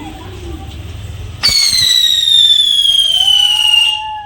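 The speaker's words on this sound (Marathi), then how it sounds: "फटाके वाजवून होत आहेत" Diwali fireworks: after a low murmur, a sharp bang launches a loud, shrill whistling firework that screams steadily for nearly three seconds, close by, with a fainter second whistle toward the end.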